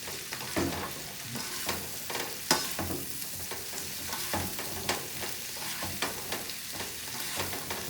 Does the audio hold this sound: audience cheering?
no